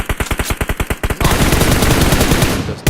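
Rapid automatic gunfire in PUBG on the Miramar map hits a vehicle, with evenly spaced loud shots that blur into a dense continuous burst of fire, close and loud, with no talking.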